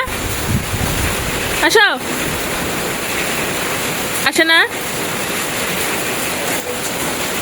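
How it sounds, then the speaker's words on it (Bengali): Cold wind and rain buffet an outdoor microphone in a steady loud roar, while a person calls out briefly twice over it. "বাতাস, ঠান্ডা বাতাস রে বাবা, বৃষ্টি পড়তেছে, শরীর ভিজে যাচ্ছে।"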